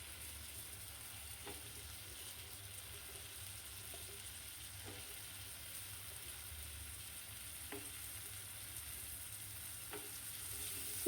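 Potatoes and chickpeas fry gently in oil with panch phoron, a faint, steady sizzle under a low background hum, punctuated every few seconds by a soft clink of stirring, quiet and close.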